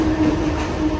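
A passenger train rumbling along at a station, a steady close mechanical drone with a faint high whine, no voices.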